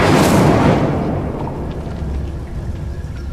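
An Incendio fire spell bursts in Hogwarts Legacy with a loud whooshing blast up front, then a rumbling roar of flame that slowly fades over a few seconds.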